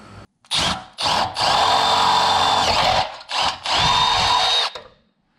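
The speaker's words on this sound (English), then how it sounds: "we're gonna drill out this hole a little bit and make it bigger" Power drill boring out and enlarging a hole in an oil cooler mount for a Subaru WRX/STI EJ25 Perrin oil cooler install, close and loud, in several bursts of whining drilling separated by short pauses.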